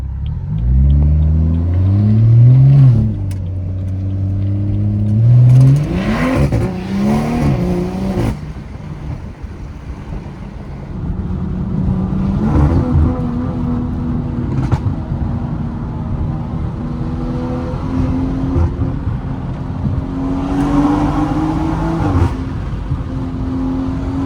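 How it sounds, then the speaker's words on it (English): Turbocharged stage 2+ BMW 340i driving at night, the engine revving up through gears with rising and falling tones, loud steady road rumble throughout and no voices. "That turbo sounds so good."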